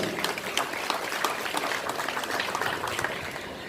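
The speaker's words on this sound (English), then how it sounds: "So a round of applause for the Board of Governors." An audience at a school's annual general meeting in Mumbai gives a round of applause, a dense, even rattle of many hands clapping at moderate distance, fairly quiet and continuous throughout.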